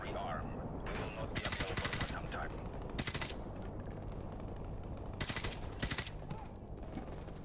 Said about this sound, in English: Did I see someone shooting from over there?